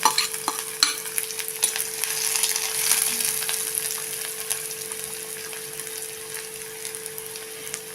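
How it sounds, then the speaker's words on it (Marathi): Finely chopped onion dropped into hot oil with cumin seeds sizzles steadily and close by, with a few sharp crackles and stirring scrapes early on, then a continuous even fry. A low hum runs underneath. "आता हा बारीक चिरलेला एक कांदा आहे तो आपण तेलात टाकून घेऊया"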